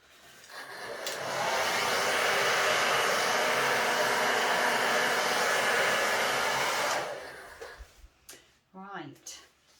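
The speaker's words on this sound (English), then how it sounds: "I'm going to carry on with my slower hairdryer." A hair dryer blows steadily on acrylic pour paint, ramping up over about a second, holding a loud even roar for several seconds, then cutting off, after which a person laughs and talks nearby.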